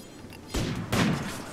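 Two heavy shotgun blasts from a RimWorld colony battle, the second about half a second after the first, each a broadband burst that lingers briefly in a low rumble with no talking.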